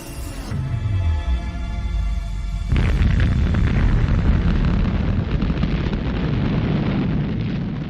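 Atomic bomb bursting over Nagasaki at 1,650 feet, a sudden massive roar that swells into a sustained, dense rumbling blast, loud and continuous with no voices.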